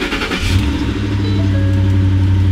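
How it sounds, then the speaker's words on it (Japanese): A first-generation Ford Raptor's engine cranks briefly and catches, settling into a loud, steady idle close by with no talking. "エンジンかけようか。"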